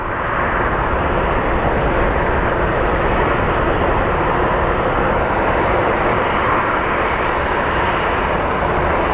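Airliner jet engines roar at Phoenix Sky Harbor airport, a loud, continuous broadband rumble and rush that holds steady for about nine seconds with no pauses.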